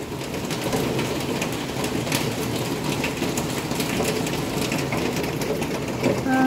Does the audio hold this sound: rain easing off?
yes